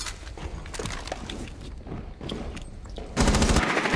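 Rapid automatic rifle fire in the tactical shooter Rainbow Six Siege, clusters of sharp shots across the clip, with a louder, denser burst near the end.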